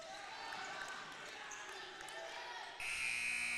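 A loud electronic buzzer sounds near the end of a high school boys' basketball quarter, cutting over the crowd noise of a gym.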